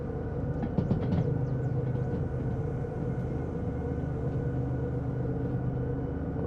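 Heavy freight train in Derail Valley shoved by a locomotive, with a small DH4 shunter assisting: a steady, dense low rumble and mechanical drone that holds level throughout, with a few faint clanks near the start.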